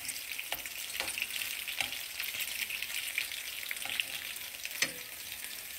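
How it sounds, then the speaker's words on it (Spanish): Potato and ground beef taquitos fry steadily in hot oil, a dense continuous crackling sizzle with a few sharper pops, close and fairly loud, no talking. "Después de que ya dejamos dorar unos 5 minutos, vamos a voltear. Volteamos todos nuestros taquitos."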